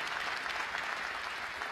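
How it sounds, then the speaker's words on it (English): Audience at a State of the State address in the Bronx gives a sustained round of applause, dense steady clapping filling the room with no voices over it. "Let's give the President a strong round of applause for all the wonderful work that is happening here."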